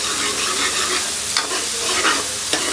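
Tadka tempering sizzles steadily in a pan for rajma, a loud continuous crackling hiss with a few sharper spatters and stirring scrapes, no talking.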